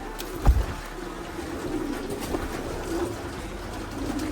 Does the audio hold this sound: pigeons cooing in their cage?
yes